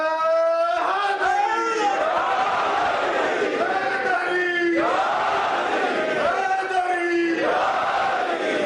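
At a Muharram majlis in the UK, a large crowd shouts religious slogans in loud, rising and falling waves of massed voices, with repeated call-and-response bursts that swell and fade.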